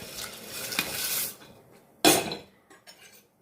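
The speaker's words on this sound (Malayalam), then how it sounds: "നല്ലതുപോലെ ഇളക്കി കൊടുക്കണം അല്ലെങ്കിൽ ഇതെല്ലാം കൂടെ ഒട്ടിപ്പിടിച്ചിരിക്കും" Metal utensil scraping and clattering in a pot of boiling water with ada, a steady stirring noise for over a second, then a sharper clank and a few lighter knocks.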